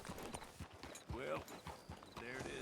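Horse hooves clip-clop in Red Dead Redemption 2, a few uneven steps close by, with someone talking over them and brief whinny-like game sounds.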